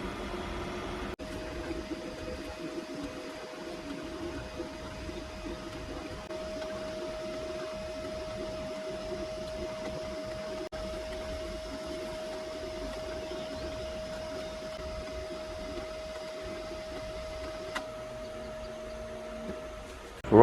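3D printer running a print of ER32 collets, a steady whirring motor hum with a sustained tone throughout, close and continuous with no talk.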